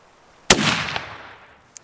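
A single sharp, loud muzzleloader rifle shot cracks outdoors during a public-land mule deer hunt, followed by a long fading rumble and a faint click afterward.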